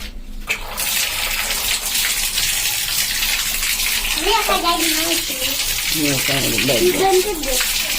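Water splashes and gushes continuously, with a voice and speech-like tones rising over the steady wash in the second half.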